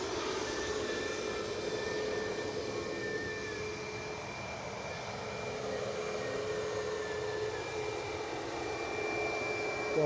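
A WestJet airliner at Edinburgh Airport gives off a steady jet engine drone with thin whining tones above it. The sound holds at moderate loudness and stays continuous throughout.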